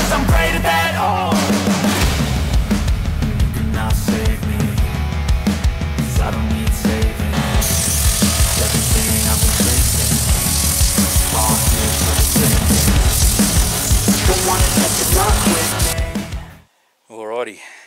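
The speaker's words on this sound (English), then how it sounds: "as you can see, I love sanding" Continuous abrasive scrubbing of filler being sanded on a Model A Ford pickup body, steady and close, with music playing over it. A short burst of sound comes at the end after a sudden cut.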